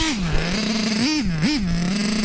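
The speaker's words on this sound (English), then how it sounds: "That's really lean. No good like that. I think the seal's gone in the carburettor." A nitro-powered model engine with a failed carburettor seal runs lean, holding a steady buzzing drone that rises briefly twice as the throttle blips.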